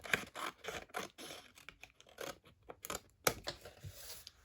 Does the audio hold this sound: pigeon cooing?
no